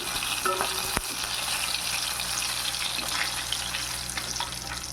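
Chicken pakoda pieces and green chillies fry in hot oil with a steady broadband sizzle, a few brief clicks of stirring or utensil contact over the continuous hiss, with no talking.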